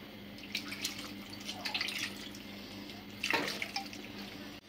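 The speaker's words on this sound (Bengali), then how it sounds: "এখন সামান্য পানি দিয়ে দিব।" A little water is added to marinated fish with tomato for a village-style Bangladeshi fish curry, quiet trickling and splashing in short bursts over a low steady background hum.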